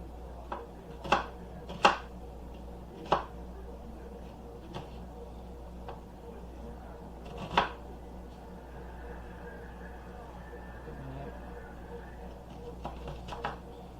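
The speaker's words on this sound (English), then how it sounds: "I'm just going to give it a rough chop." Knife roughly chopping onion on a cutting board for a teriyaki shrimp stir fry, several sharp scattered chops with pauses between them, fairly close, over a low steady background hum.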